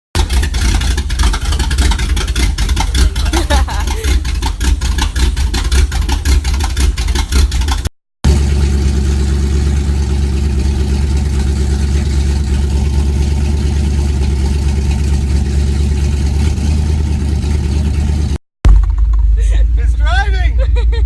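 A 1993 Chevy K1500 pickup with a newly fitted engine drives on a test run with no hood, its steady engine drone loud and close throughout, briefly cutting out twice, while people talk over it.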